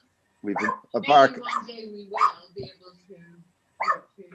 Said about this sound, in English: You can probably hear the dog barking.